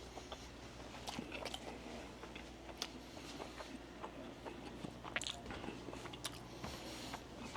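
Someone chews a crunchy taco filled with rice and corn, close and quiet, with repeated moist bites, soft crunches and squishy mastication over several seconds, no talk.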